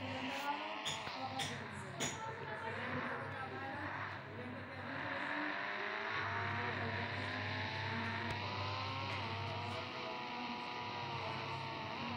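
A car engine in the video game Indian Bike Driving 3D drones steadily, its pitch rising and falling as it accelerates, with a voice talking over it.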